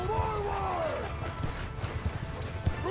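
Horses galloping on a battlefield in Mount & Blade II Bannerlord, with quick clip-clop hoofbeats, neighing and whinnying in the mix, and a voice speaking at moments over the commotion.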